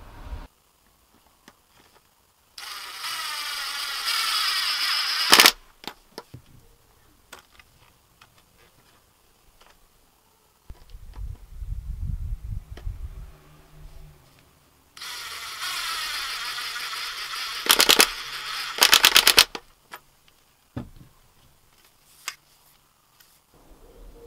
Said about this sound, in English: you need to fit 2 locking screws